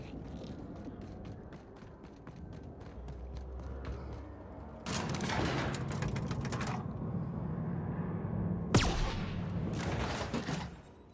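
Gunfire in The Outer Worlds video game, with rapid mechanical ticks at first, then two dense bursts of loud shots in sustained volleys, separated by a short lull.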